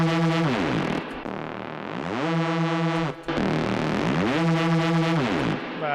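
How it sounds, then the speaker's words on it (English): A synth with heavy crunch distortion plays gritty, buzzing tones that sweep down and back up in repeated phrases, loud and alone with short breaks between them. "You can see here I've been a bit more savage with the crunch."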